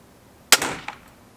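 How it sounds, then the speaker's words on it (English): A single sharp rifle shot, fired through an ATN X-Sight 4K Pro scope, cracks loudly against a quiet background, decays over half a second and throws back a distinct echo. "This will be shot number four, my final shot."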